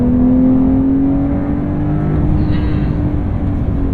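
A 2023 Porsche 911 Carrera T's engine accelerates with a steady, loud rising drone that stays close and continuous and is heard alone, with no talk over it.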